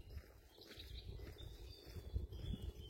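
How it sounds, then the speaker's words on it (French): Birds sing and chirp faintly outdoors, scattered high calls over a low rumble of wind or handling noise. "écoutez les oiseaux."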